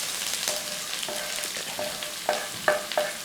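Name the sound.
onion, carrot and green chilies frying in pan for bitter gourd thoran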